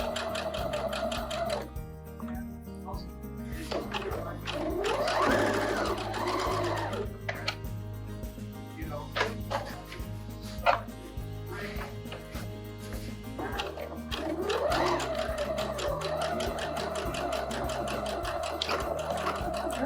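A sewing machine runs steadily, stitching a seam on a fabric shopping bag with the presser foot tracking a marked line, a continuous mechanical whir that pauses briefly once and resumes.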